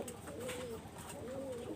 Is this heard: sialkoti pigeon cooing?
yes